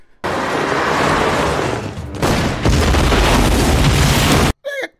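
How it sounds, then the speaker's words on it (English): A car blows up in an action movie scene: a loud, sustained explosive roar with crackling bursts filling several seconds, then a sudden cut to quiet with a short trailing burst. "Police shot, you blowing up cars, get out of there."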